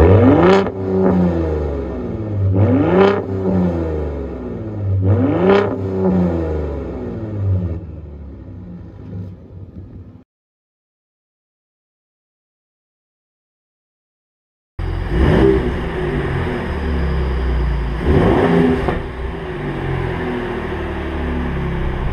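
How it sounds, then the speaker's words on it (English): Exhaust of a 2021 Ford Raptor full-size pickup truck revving hard three times in quick bursts, then a gap of silence before a sustained loud, rumbling rev with a deep, smooth exotic note. "a very smooth, exotic sounding exhaust note that you really probably have never heard on a full size truck"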